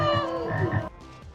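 Large bullfrogs croak loudly in a film soundtrack, with deep throaty calls repeated in quick succession before they cut off abruptly into quieter background.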